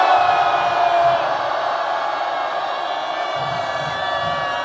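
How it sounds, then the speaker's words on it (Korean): Outside the National Assembly in Yeouido, a large crowd at a prayer rally lets out a sustained roar of cheering and shouting, loud at first and then holding steady, with a few deeper shouts breaking through. "자, 힘차게 함성!"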